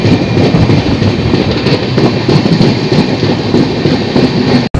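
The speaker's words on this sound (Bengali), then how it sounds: "আর হাওড়া স্টেশনে ঢুকছে এখন অমৃতসর মেল" Amritsar Mail train rolling into Howrah station in rain, a steady loud rumble of wheels and carriages with clickety-clack rhythm throughout, no voices.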